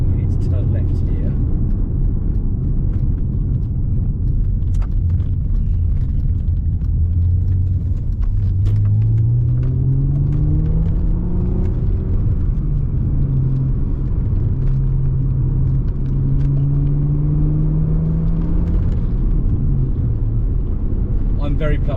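A Mini car driving at speed on the road, heard from inside as a steady, loud low rumble with engine tones that rise and fall, and a voice talking over it.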